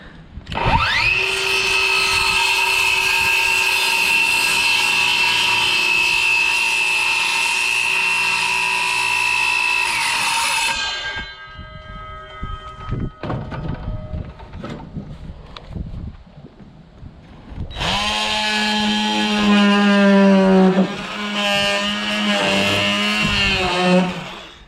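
A power saw cuts pine window trim with a loud, steady whine lasting about ten seconds, followed by clattering and handling noises, then another strained cutting burst whose pitch wavers as the blade bogs down.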